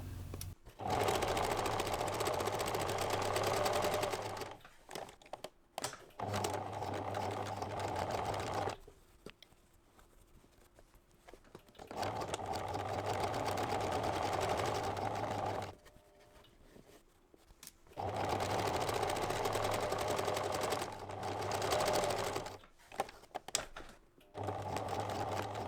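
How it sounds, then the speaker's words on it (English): A sewing machine stitches a fabric drawstring bag in three long bursts of rapid, steady stitching, close up, with short quiet pauses between runs. "put some tension on it and help guide it through the sewing machine"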